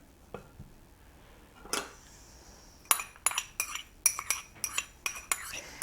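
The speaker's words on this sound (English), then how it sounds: "Give that a stir" Green onion being stirred into Mexican cornbread batter, a run of quick bright clinks and scrapes of a utensil against a bowl, close and fairly quiet, after a few scattered knocks.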